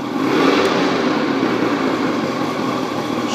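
A 1991 Lund Angler 1600 SC boat's outboard engine revs in reverse, a loud, steady motor roar holding close and constant throughout with no talk.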